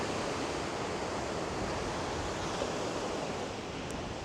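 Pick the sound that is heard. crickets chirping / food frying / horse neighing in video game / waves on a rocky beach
waves on a rocky beach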